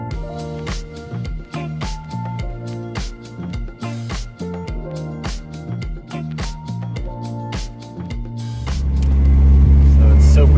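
Music plays for most of the stretch, then a vehicle engine outdoors cranks and catches near the end, settling into a loud, steady, close rumble.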